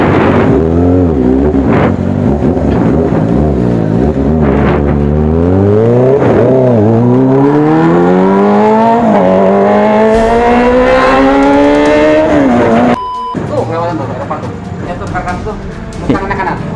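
Blue Kawasaki ZX-25R motorcycle screaming past up close, its high-revving inline-four whine climbing steadily in pitch for about twelve seconds before cutting off and fading, with light roadside noise after.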